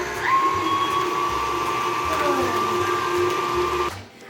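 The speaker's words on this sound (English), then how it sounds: "turn on the mixer. Pop it on. There we go. Get that stirred up. It's on." A stand mixer whips topping for a rainbow pizza, giving off a steady, close motor whine that holds evenly for several seconds and then cuts off abruptly near the end.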